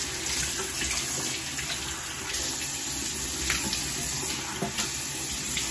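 Bathroom tap running warm water into a sink, a steady, even rush of splashing flow, close and continuous without pause.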